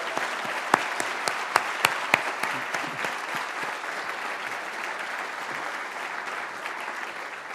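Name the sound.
graduation ceremony audience applauding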